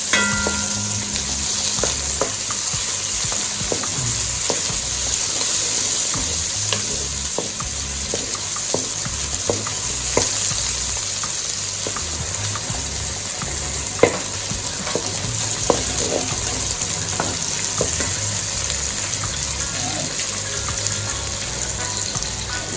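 Tomato paste fries in oil in a pot over low heat for jollof rice, giving a continuous dense sizzle with occasional spoon clicks and scrapes as it is stirred, close up and steady throughout.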